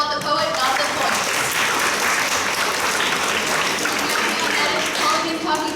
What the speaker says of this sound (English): Applaud the poet, not the points.